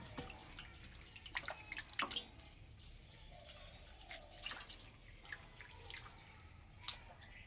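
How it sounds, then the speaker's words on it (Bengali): Water drips and trickles softly from freshly washed pumpkin flowers set in a basket to drain. Scattered faint droplets fall at an uneven pace in a quiet kitchen. "তাহলে এক্সট্রা জলটা ঝরে যাবে।"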